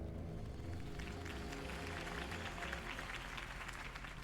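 A crowd applauds after a campaign speech for Harvey Dent in Batman: The Telltale Series, steady dense clapping over a low rumble with music and murmur underneath, fairly faint and continuous throughout.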